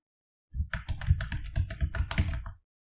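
A query is typed on a computer keyboard in MySQL Workbench on Windows 11, a brisk run of about a dozen crisp, close keystrokes over roughly two seconds, alone without speech.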